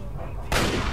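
A gunshot for a headshot in the Fallout 3 video game, a single loud broadband blast that starts abruptly halfway through and rings out to the end over a low rumbling game background.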